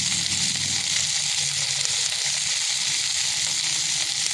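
Jilmil saag with salt and turmeric frying in hot oil, a steady close hiss and crackle that fills the clip without pause, with faint stirring underneath.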